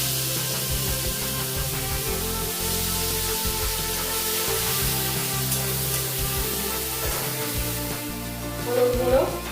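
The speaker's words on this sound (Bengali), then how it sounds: "এইভাবে কেটে নেওয়া আলু ওতে দিয়ে লাল করে ভেজে নেবো" Sliced potatoes fry in oil over a cumin-seed tempering for a potato and oyster mushroom dish, giving a steady, close sizzle that runs throughout with a few stirring sounds near the end.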